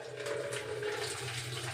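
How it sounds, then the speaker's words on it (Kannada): Water being poured into two cans at home, a steady rushing, gurgling fill heard close and alone for a couple of seconds. "ಎರಡು ಕ್ಯಾನ್ಗೂ ನೀರು ಹಾಕಿ"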